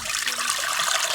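Water pours steadily over rice noodles to soak them, a continuous hissing splash close up and fairly loud for about a second.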